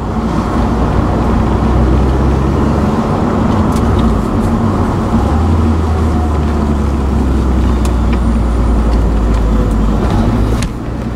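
A 1999 Mitsubishi Eclipse GSX drives along with its tires rolling over the road, a loud, steady drone of engine and road noise heard from inside the car for about eleven seconds with no talking.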